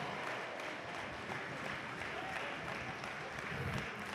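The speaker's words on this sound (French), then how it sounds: "On applaudit très fort les deux équipes qui ont donné toute leur énergie dans ce match." After a roller derby match, a crowd claps for both teams, a continuous, even patter of applause heard at a moderate distance.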